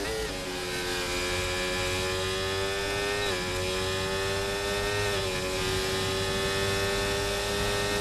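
Formula 1 racing car engine in an F1 video game, a sustained high whine with smooth pitch shifts as it closes on and passes a Ferrari, loud and steady throughout.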